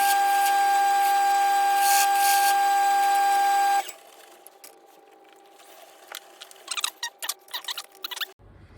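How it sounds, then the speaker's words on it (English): Lathe spinning while a pen blank is turned, a steady loud mechanical whine with a constant tone that cuts off partway, followed by quieter intermittent clicks and light tool contact. "Just starting the lathe, and I'm just checking the size as I go on."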